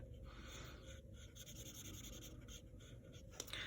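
An alcohol marker is worked across paper to blend one colour into another, giving a soft, continuous scratchy rubbing that runs steadily with brief pauses between strokes.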